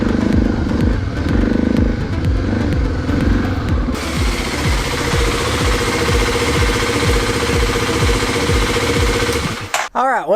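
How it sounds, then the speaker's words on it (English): A motorcycle engine runs steadily in a close, loud idle with rhythmic low throbbing and clattering as the bike is wheeled up a ramp into a shed; the sound cuts off abruptly at the very end. "get the motorcycle put up in the shed"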